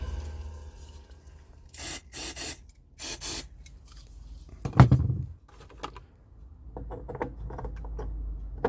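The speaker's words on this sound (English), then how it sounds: "We need to clean those tube sockets though before we put them in." Tube sockets inside a Burman Pro 501 hand-wired guitar amplifier being cleaned, giving several short bursts of scratchy rubbing and scraping up close, a louder clunk, then lighter scraping, with no talk.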